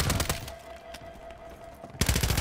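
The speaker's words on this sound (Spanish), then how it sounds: "Uy, me cagan a tiros, chico" Automatic gunfire in the video game Warzone crackles in rapid bursts, a dense volley at the start, thinner shots through the middle and another loud burst near the end.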